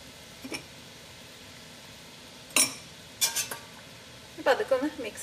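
A spoon clinks and scrapes against a pot a few times while salt is stirred into Kerala pomfret fish curry, sparse metallic taps over a quiet background.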